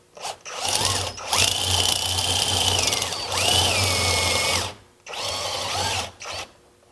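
A power drill bores a hole in a lead spoke-type wheel weight, the motor whining up in several loud bursts of a second or two, with brief pauses and a short final burst.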